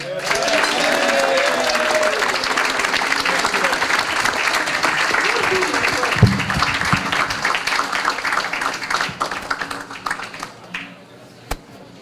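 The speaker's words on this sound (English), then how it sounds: "Please give a big round of applause to our sax player, the great Plaz Johnson" Jazz salon audience applauding a saxophone player, a loud sustained wash of clapping that carries for most of the stretch and thins toward the end.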